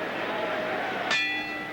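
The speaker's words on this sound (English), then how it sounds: "the bell will end the first round in just 10 seconds here in Landover" Boxing ring bell ending a round at a heavyweight fight in Landover, Maryland: a single ring that hangs and decays over a steady crowd murmur.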